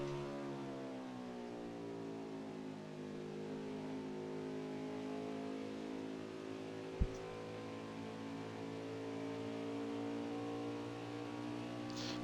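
A race car engine in a video game, heard from the hood cam at Pocono, drones steadily at high revs, its pitch sliding gradually downward and then holding, close and continuous with a brief click midway.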